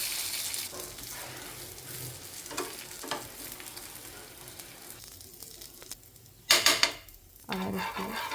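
Rava (suji) uttapam frying in a buttered pan, a soft steady sizzle with occasional scraping and clinks of a utensil against the pan, and a sharper burst of crackling near the end.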